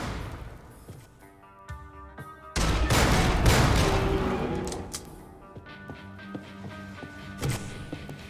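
A rocket turret fires in the Jupiter Hell video game, with a heavy roaring blast that swells and fades over a couple of seconds, followed by scattered sharp impacts and clanks.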